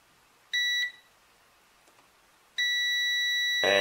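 Multimeter continuity tester beeping while its probes check a fuse from an ultrasonic cleaner under repair: a short clear electronic beep, a pause, then a second sustained beep, loud and close.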